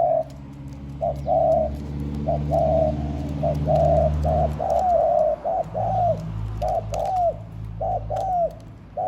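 A decoy dove coos repeatedly in a steady rhythm, clear and fairly close, over a low hum of background noise.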